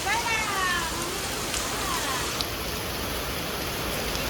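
Rain falling on a terrace, a dense, steady hiss of drops close by, with a few faint voices and brief higher sounds early on under the downpour.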